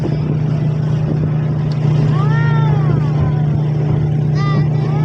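A motorboat engine runs on the water near Munnar, holding a steady loud drone for the whole stretch, with brief faint whistling tones over the top.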